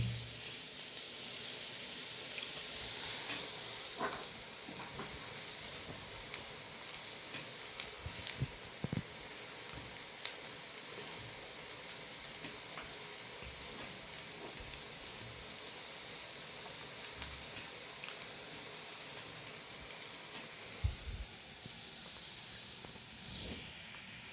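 Lentil and cauliflower fritters deep-fry in oil, producing a faint, steady hiss of bubbling with scattered soft pops and occasional small clicks over a long stretch.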